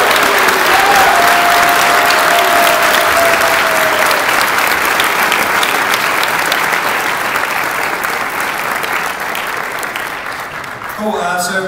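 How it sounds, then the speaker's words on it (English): Audience applause after a DayZ Standalone panel Q&A at PAX East 2013, a dense, sustained roar of many hands clapping close and loud, with a few whistles early on, tapering slightly before fading near the end. "Let's give a round of applause to"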